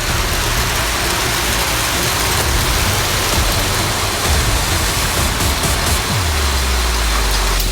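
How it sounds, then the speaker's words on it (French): Heavy rain pours down in a deluge, a loud, dense, unbroken hiss of water drumming on surfaces throughout, with a faint low rumble near the end. "C'est le déluge"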